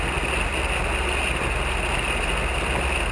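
A Pietenpol Aircamper's engine in flight over Oregon, a steady, unbroken drone with wind rush, heard close from the aircraft at a constant loud level.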